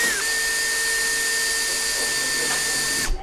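A power drill fitted with a new drill bit bores a hole, a loud continuous high-pitched whine of the motor running steadily for about three seconds before winding down abruptly.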